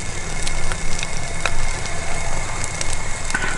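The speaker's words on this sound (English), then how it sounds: "Let's see that sizzle. That's good sizzle." French toast sizzles in a pan at a hot-tent camp, giving a steady, close, loud frying hiss with scattered pops and crackles and no talking.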